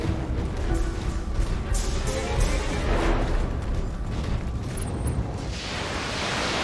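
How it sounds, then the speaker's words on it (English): Missile strikes pounding a mech during BATTLETECH combat, a dense continuous barrage of loud booming explosions and crashing impacts filling the whole stretch with no pause. "Here come the missiles. Yep, more missiles, etc."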